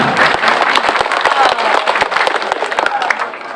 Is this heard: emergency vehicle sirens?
no